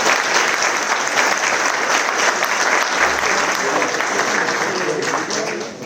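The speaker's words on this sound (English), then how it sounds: "Round of applause for the Googers" An audience gives a sustained, loud round of applause at a charity concert by two flute bands, a dense steady clapping that continues throughout and begins to fade at the end.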